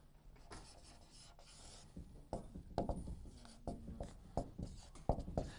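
Pen or pencil strokes scratch out a word on paper in short, uneven bursts, close and faint, with small pauses between letters.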